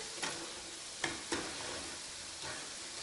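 Struffoli honey balls fry in hot oil with a steady sizzle, while a utensil stirs and flips them, giving a few soft knocks against the pot.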